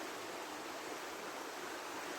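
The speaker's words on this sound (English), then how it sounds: "This is actually a river crossing just here." A rainforest river rushes past at a crossing, a steady broadband wash of flowing water, close and constant with no voices.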